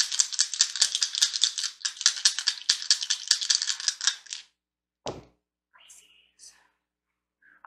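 Zodiac, planet and house dice shaken and rattled for about four seconds with dense clicking, then a single clack as they land, followed by a few soft whispered words.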